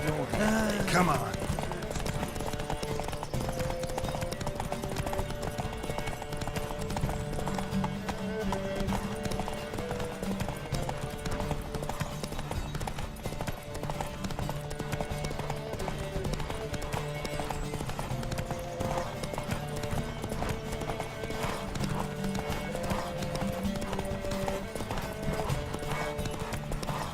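Horse hooves galloping in a race in The Witcher 3, a steady rapid clip-clop rhythm close by that runs throughout, with a whinny near the start and sustained game music and voices underneath.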